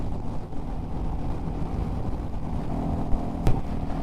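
A Royal Enfield 350 J-Series motorcycle cruises on a freeway at just over 100, a steady low engine hum mixed with wind noise and a brief sharp click near the end.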